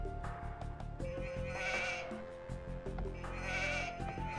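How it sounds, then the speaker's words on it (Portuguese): Sheep in an Age of Empires 2 HD match on the Land Nomad map bleat twice in short, wavering calls over a steady bed of game music and ambient tones. "Tem umas ovelhas passeadoras aí pelo mapa de Land Nomad."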